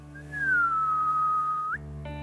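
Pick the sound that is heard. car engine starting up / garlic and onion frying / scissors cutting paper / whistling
whistling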